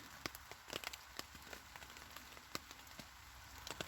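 Rain falls in a woodland, faint and close, with sparse, irregular drops tapping on leaves and surfaces over a soft, constant patter.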